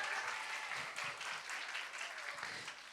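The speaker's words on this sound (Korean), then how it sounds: "더 큰 박수로 우리 격려해 주시고" A church youth congregation applauding at a worship service, a steady, fairly faint wash of many hands clapping together for about three seconds.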